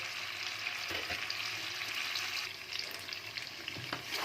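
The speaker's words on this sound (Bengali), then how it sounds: "গ্যাস এবারে আমি হাই করে দেব, দিয়ে কিন্তু আস্তে আস্তে কষিয়ে নেব" Potatoes and raw green peas stir-frying over high heat in a pan, a steady dense sizzle with intermittent scraping stirs and light clinks, no talking.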